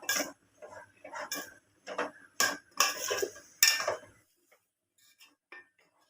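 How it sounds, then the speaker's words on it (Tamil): A metal spoon stirs chili powder into hot oil in a cooking pot for dried fish curry, giving a run of close, irregular scrapes and clinks against the pot that stop partway, followed by a few faint taps. "மிளகாத்தூள் போட்டுட்டு ஒரு வாட்டி நல்லா மிக்ஸ் பண்ணி விட்டுக்கலாம்."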